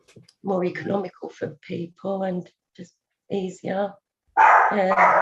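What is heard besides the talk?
dog barking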